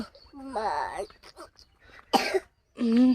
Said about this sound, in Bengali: কাশি হয়েছে তো